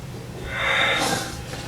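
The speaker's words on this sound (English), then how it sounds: "It sounded like someone deep breathing, like exhaling." A long, breathy exhale swells and fades, a soft airy hiss with no voice, ending in a brief faint click.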